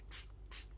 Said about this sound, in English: I'll just spray these. This is just water.